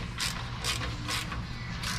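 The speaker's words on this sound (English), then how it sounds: "So I'm just bolting up the V-band so that we can do a couple more pie cuts" A ratchet tightens the bolt of a V-band clamp on exhaust piping for a Honda CRX EF turbo kit. Four or five quick, close ratcheting bursts come in a steady rhythm, with no talking.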